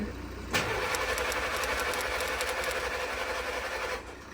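Cranking of an old WW2 Willys jeep engine under restoration: a sudden start followed by a steady, loud, buzzing starter churn that runs for about three and a half seconds before cutting off.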